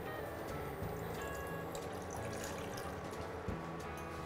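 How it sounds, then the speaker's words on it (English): Water is poured into a saucepan on the stove to make sugar syrup for wheat-flour halwa, a continuous splashing, gurgling stream that stays steady and fairly close throughout. "into a saucepan, I'm going to turn on the heat and I'm going to add in the water"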